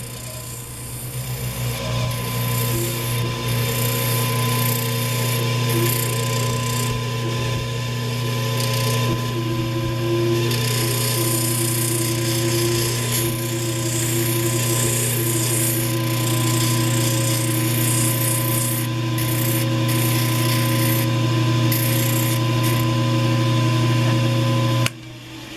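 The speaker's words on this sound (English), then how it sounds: "I call this a rough sanding or rough shaping" Wood being rough sanded and shaped with a power tool, a loud steady motor drone with a strong hum and grinding rasp that shifts as the tool works the piece, stopping abruptly at the end.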